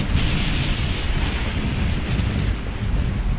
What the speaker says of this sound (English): That's some heavy-duty rain. All right, rain test.